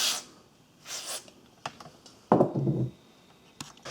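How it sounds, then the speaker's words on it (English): Short hissing bursts of white lithium grease sprayed into a Ford Ranger window track, two quick sprays followed by clicks and a longer handling rustle, close and fairly quiet. "I'm going to spray a little bit of white lithium grease"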